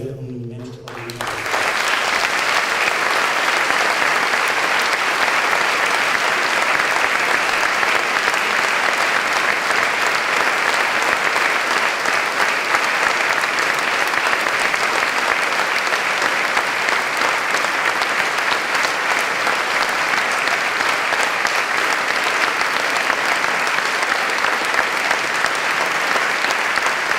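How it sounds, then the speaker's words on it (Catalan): A large audience at a political support event breaks into loud, sustained applause that fills the room, dense continuous clapping after a brief moment of a speaker's voice at the start. "ara sí us demanaria, un immens aplaudiment"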